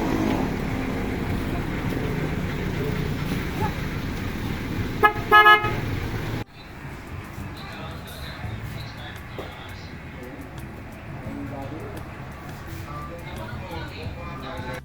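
A faulty minivan horn gives two brief, strained toots midway through a steady engine and road rumble, then the cabin goes quieter.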